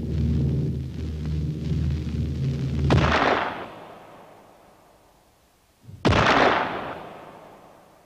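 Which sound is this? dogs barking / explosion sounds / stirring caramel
explosion sounds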